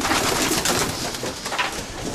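A pigeon coos softly and repeatedly, close by, with a low murmuring rhythm and no talking.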